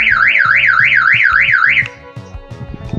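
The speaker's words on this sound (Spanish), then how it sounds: "Activo la alarma." A loud car alarm wails in a rising and falling siren pattern for a couple of seconds, then cuts off, leaving some faint clatter.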